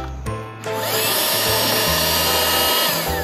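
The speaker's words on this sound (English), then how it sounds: "It's called an air compressor. It takes in air from the surroundings and forces it into the air mattress" An electric air compressor inflates a camping air mattress. It starts with a click and a brief rising whine, then settles into a loud, steady motor drone with a hissing rush of air that runs unbroken to the end.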